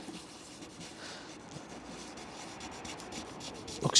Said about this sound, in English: what I'm going to do is just going to scuff the area